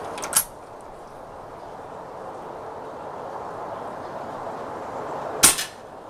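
Two sharp pops from an air rifle fitted with a Lancet Mk9 regulator set at 71 bar, one near the start and one near the end, separated by a steady background hiss.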